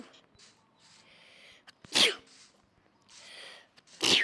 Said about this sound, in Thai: กูจามแบบดิจิตอลมาก